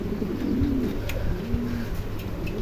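Low, soft coos from two young adult male pigeons roll over a dense, constant background murmur, a couple of drawn-out calls close by.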